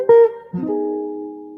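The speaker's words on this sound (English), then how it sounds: "A minor 6 chord there" A minor sixth chord on guitar, opening with a short plucked note and then a fuller strum that sustains and slowly decays, close and alone.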